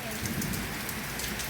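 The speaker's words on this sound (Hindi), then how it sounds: "अब नहीं लग रहा कि बारिश रुकने वाली है" Heavy rain pours steadily in a dense, even wash of drops hitting the ground and surfaces, continuous and moderately loud with no pauses.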